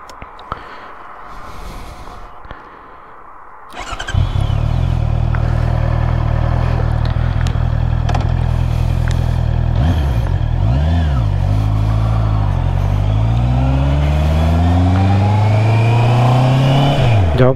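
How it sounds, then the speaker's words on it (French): A 2022 Honda CB 650R four-cylinder motorcycle fires up after a moment of low background noise, then settles into a loud, close idle before several rising and falling revs climb in pitch toward the end. "On va essayer la moto avec mon fils derrière"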